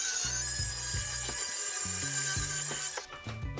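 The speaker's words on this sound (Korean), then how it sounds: "그라인더로 여기를 커팅을 해서 밑으로 내려가지고 작업을 하겠습니다." An angle grinder cuts through a cast iron drain pipe during a wall faucet conversion. Its harsh, steady whine runs loud and close for the whole stretch, with low rumbling and knocking underneath.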